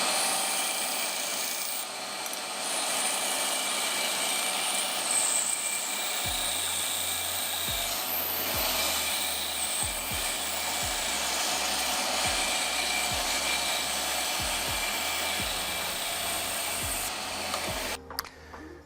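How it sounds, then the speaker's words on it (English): A bandsaw cuts a wooden guitar neck to shape, a steady close whirring rasp of blade through wood that runs continuously at moderate level, with faint low bumps as the workpiece is fed. "So we've cut out the cutouts on the bandsaw"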